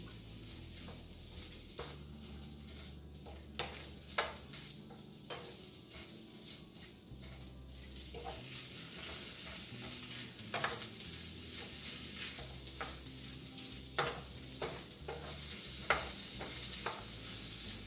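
Sausage rice pilaf sizzles and caramelizes in a frying pan. A steady fry hiss runs throughout, broken by scattered clicks and scrapes of stirring, all close and at moderate volume with no voices.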